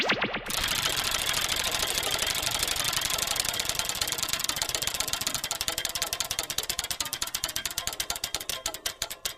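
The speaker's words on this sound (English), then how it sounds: "Thanks for spinning the loser wheel!" A prize wheel from the You Don't Know Jack video game spins with a rapid, loud ratcheting clatter of clicks that gradually slow and spread apart as the wheel winds down, heard alone.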